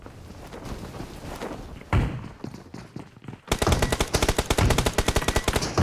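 Automatic gunfire rings out in a BGMI military-base battle. Scattered shots and thuds come first, then a loud rapid burst of evenly spaced rounds fires continuously to the end.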